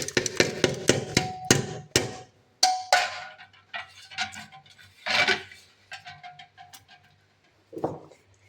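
Urad dal and chana dal pounded coarsely in a mortar, a run of sharp, close knocking strikes, fast at first and then slower and irregular with short pauses, no talking.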